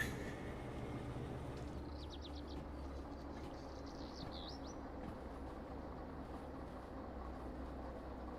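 A DE2 locomotive in the Derail Valley train game rolls along the rails with a steady low rumble that lasts the whole stretch, and a few faint bird chirps drift in briefly near the middle.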